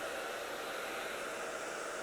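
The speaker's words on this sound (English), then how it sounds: "I have this dryer on high heat but a medium speed" A hair dryer fitted with a diffuser runs on high heat at medium speed, giving a steady, even airy whoosh that holds unbroken from start to finish, close and alone.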